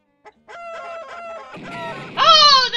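Cartoonish clucking from chickens in the Doom & Destiny 4 video game, a few short bird calls that build into a loud, bright crowing burst near the end, alone without talk.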